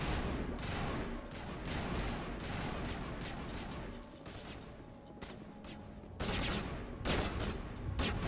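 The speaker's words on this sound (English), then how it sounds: "my squad is incessantly shooting over there" Sustained bursts of squad gunfire in the sci-fi shooter Mass Effect, rapid overlapping shots crackling continuously at close range with a brief lull midway before the firing swells again.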